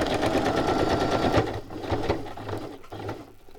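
A sewing machine stitches a ruffle down onto a mini journal, its rapid mechanical chatter steady at first, then breaking into short bursts separated by brief pauses, close and moderately loud with no talking.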